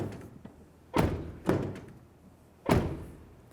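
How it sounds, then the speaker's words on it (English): Front driver's side door of a 2004-2015 Nissan Titan pickup, fitted with a replacement exterior handle, shut and opened: three heavy thuds, the first two about half a second apart and a third after a short pause, close and fairly loud, with no talk. "I'll test it by opening and closing the door."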